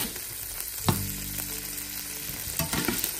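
Prawns sautéing in oil in a pan for a Cantabrian seafood paella, a steady close sizzle and crackle with a few sharp stirring knocks partway through and no one talking.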